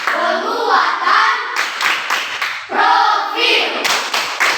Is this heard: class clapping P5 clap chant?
yes